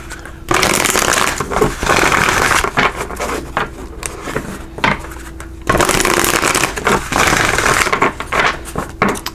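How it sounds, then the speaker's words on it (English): Tarot cards are shuffled loudly and close up in long rustling bursts, with a pause midway before another vigorous round of riffling and scraping. "We'll give these a good shuffle."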